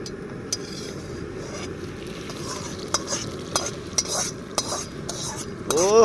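Hot tempering of mustard seeds, bay leaf and dried chilli being poured into a pot of khichdi at an outdoor forest cooking spot, giving a steady sizzle with scattered clinks and stirring clatter, growing louder at the end.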